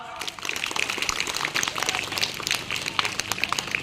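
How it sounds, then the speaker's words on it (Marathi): A crowd of students and guests at a school Independence Day prize-giving claps in a fast, dense burst that stays fairly close and lively for a few seconds. "जोरदार टाळ्या वाजवा"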